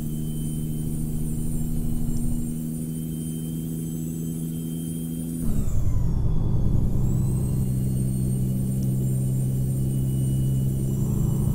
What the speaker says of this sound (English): Listen to that turbo whining.